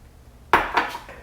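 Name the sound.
chickpeas dumped into blender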